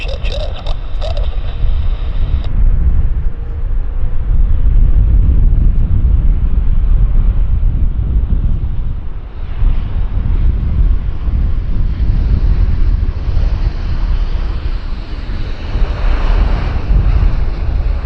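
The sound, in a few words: airplane landing at Vancouver Airport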